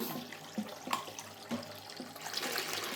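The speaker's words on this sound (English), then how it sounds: "Now all we need is some hot soapy water" Hot water runs from a tap into a basin to make a soapy soak, a faint, steady splashing with a few small drips and knocks.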